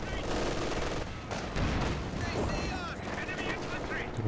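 Light machine guns fire from the Company of Heroes 2 battlefield in bursts of rapid shots, mixed with other gunfire and battle noise in a dense, continuous din. A commentator talks over it throughout.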